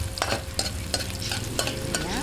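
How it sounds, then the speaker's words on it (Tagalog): Garlic and ginger sizzle in hot oil in a pan, a steady loud frying hiss with repeated scrapes of a spatula stirring the aromatics, and no voices. "umpisahan na po natin ang paggigisa"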